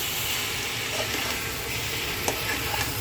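Potatoes frying and being stirred in a pan give a quiet, steady sizzle with a soft hiss, broken by a few light scraping clicks.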